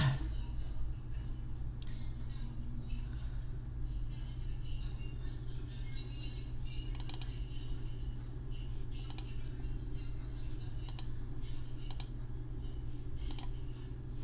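Computer mouse clicks sound as a chart data point is selected, a few sharp, isolated taps spaced apart over a steady low background hum.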